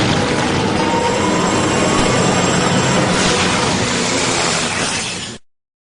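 Helicopter in an animated cartoon, a loud steady whirring roar that holds for about five seconds and then cuts off abruptly into silence, without speech.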